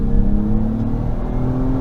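A 2022 Acura MDX Type S with a 10-speed transmission accelerates at three-quarter throttle, a steady, rising engine hum heard from inside the cabin, continuous and moderately loud.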